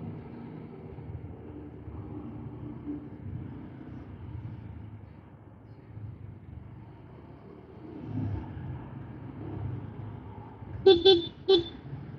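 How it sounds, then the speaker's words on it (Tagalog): Low road rumble carries on steadily from inside a car, then the car horn gives several short, sharp honks near the end. "Tama, bumusina na ako ha."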